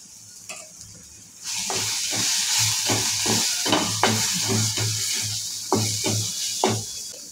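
A spoon stirs Khandeshi kadhi with yogurt, cumin, mustard seeds, curry leaves and turmeric in a pot, giving repeated scraping strokes over a steady sizzling hiss, close and fairly loud throughout.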